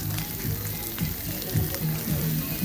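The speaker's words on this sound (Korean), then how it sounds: "자, 지글지글 사운드." Steady crackling sizzle of gopchang (beef tripe) and egg fried rice frying on a hot grill at a Korean restaurant, continuous and close, with faint low clinks and murmurs in the background.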